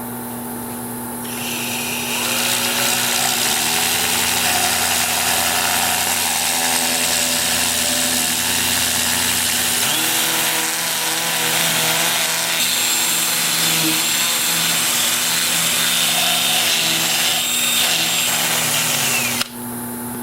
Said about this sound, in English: just going to sand this top edge right here. I'm going to sand from the top side down, like that.